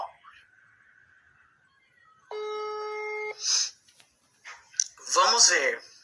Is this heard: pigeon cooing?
no